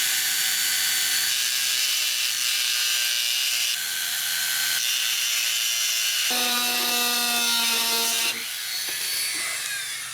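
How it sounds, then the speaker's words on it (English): A Dremel rotary tool grinds rivet heads off a die-cast Hot Wheels car base, a loud, close, high whine that shifts pitch as pressure changes, running continuously with no talk. "So we're going to use that to grind the mushrooms off."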